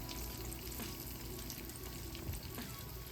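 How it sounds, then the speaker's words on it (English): Apple pies made from canned biscuits fry in regular oil, giving a steady, close bubbling sizzle with soft crackles and a few small pops. No one speaks. "They really fry up beautifully in peanut oil, but my grandson is allergic to peanuts, so I'm using regular oil."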